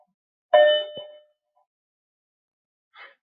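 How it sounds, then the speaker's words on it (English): A single clanging bell strike rings out sharply and decays within a second, followed by a soft thud and, after a pause, a faint short metallic tap in otherwise silent surroundings. "Again, a bell."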